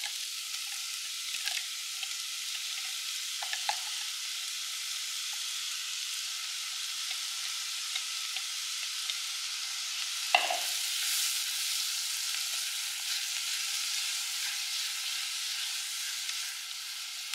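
Chopped onion fries in melted butter in a pan, giving a steady, even sizzle throughout with a few light stirring clicks and one brief scrape midway, close and moderately loud, with no talking.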